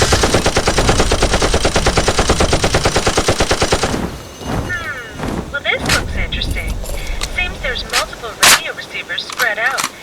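Rapid automatic gunfire in Fallout 76 rattles loudly in a dense, continuous burst for about four seconds, followed by scattered sharp shots and impacts mixed with voices and game sounds.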